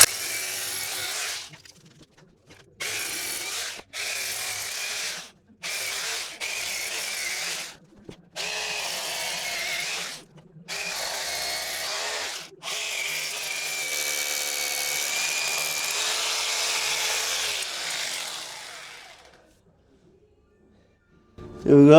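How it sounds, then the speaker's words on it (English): A power drill with a 12mm bit bores into thin brick mortar joints, loud whining bursts starting and stopping repeatedly, then one longer continuous run before trailing off to quiet. "So we'll drill all the rest of them."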